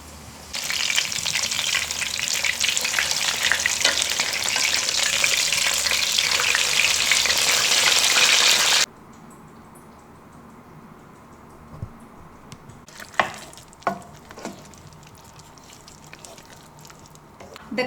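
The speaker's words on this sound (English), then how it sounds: "I just personally prefer deep frying this chicken breast for the crunch, for the flavor" Thin chicken breast deep frying in hot oil, a loud, dense, continuous sizzle lasting several seconds that cuts off abruptly, followed by quieter kitchen clatter and a few knocks.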